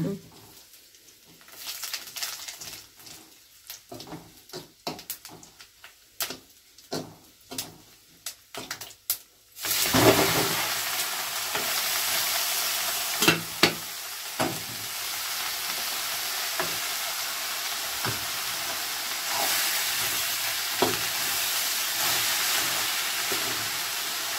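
Mustard seeds crackle with scattered sharp pops in a pan for tempering, while people talk over them. Then a loud, steady frying sizzle takes over and continues to the end.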